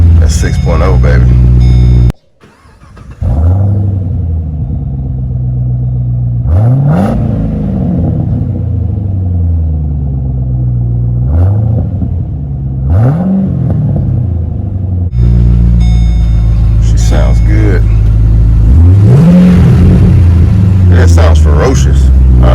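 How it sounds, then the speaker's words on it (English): A Chevrolet Caprice 6.0 engine cold-starts with a loud crank and catch, then settles into a deep, steady idle broken by three sharp revs that rise and fall, heard close up. "So I'm gonna give y'all a little cold start, let you hear what it sounds like."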